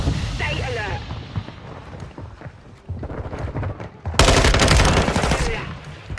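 Gunfire in Modern Warfare 2 multiplayer: scattered shots and a burst of rapid fire erupt loud and close near the end, with a shotgun involved, under game noise and a talking player.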